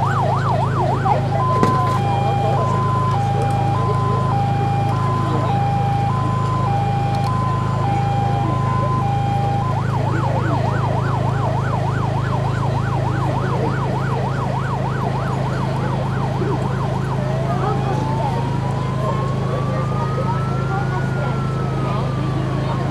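A loud emergency siren wails close by during a rescue and fire brigade demonstration in Sanok, first a two-tone alternating pattern, then a fast yelp and a slow rising-falling wail over a constant engine hum.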